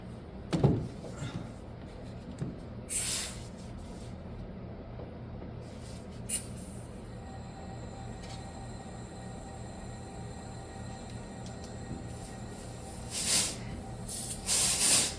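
The high-pressure oil system of a 6.0 Powerstroke diesel with a broken O-ring repressurizes with a soft, steady hiss. Several sharper spray-like bursts stand out, including louder ones near the end, and no one talks.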